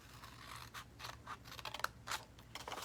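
Close, quiet snips and crunches of scissors cutting paper for a junk journal, a series of short irregular cuts with faint scraping between them.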